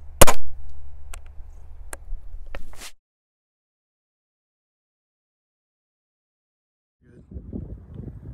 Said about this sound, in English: now we're gonna shoot the shot shell at 10 yards